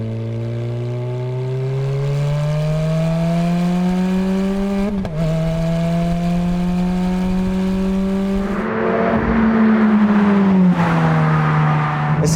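A Ferrari F430 engine drones while the car is driving, its pitch climbing smoothly through the revs, dropping briefly at a gear change, then climbing again, loud and close, with no talking.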